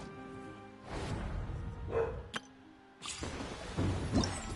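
A dog in Genshin Impact barks a few times amid game sounds, short yips and woofs in separate bursts against a quiet background.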